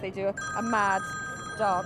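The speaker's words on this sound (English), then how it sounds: "That's the alarm sound." A phone alert rings with a steady electronic tone that carries through the whole moment, while a person talks over it nearby.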